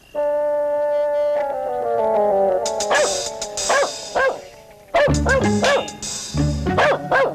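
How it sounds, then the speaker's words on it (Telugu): A dog barks loudly in repeated short bursts, two clusters of sharp yips and barks, over a sustained droning tone. "కుక్క ఎందుకు అరుస్తుంది చూడండి రా."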